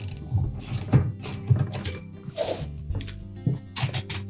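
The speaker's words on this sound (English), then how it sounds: "a 1/2-inch or a 13mm socket or wrench, we'll remove that retaining nut in the center" Socket wrench ratcheting as it loosens the convection fan retaining nut on a GE range, with bursts of close metallic clicking and clunks at an uneven pace, no voices.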